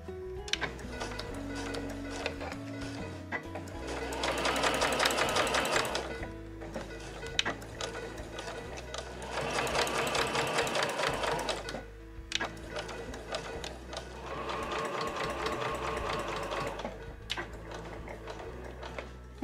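A domestic sewing machine stitches Marimekko cotton fabric with a 5 mm seam and backstitching, giving rapid mechanical ticking in three bursts separated by short pauses and quieter handling noises.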